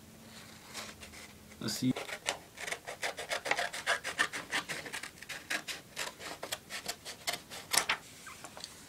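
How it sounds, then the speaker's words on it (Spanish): Scissors cut a sheet of paper down the middle for an origami star, giving a fast series of crisp snips and rustles with a brief spoken word. "con la tijera vamos a cortar por en medio de la hoja, donde hicimos la línea"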